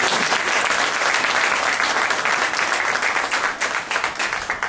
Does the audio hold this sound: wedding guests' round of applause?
yes